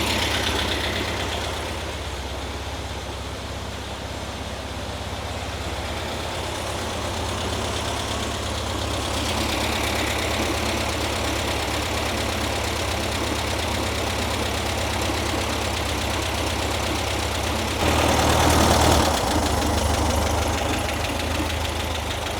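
A VW Karmann Ghia engine idles steadily and alone for over twenty seconds, a close, even mechanical chug with a light knocking tick, rising a little louder near the end.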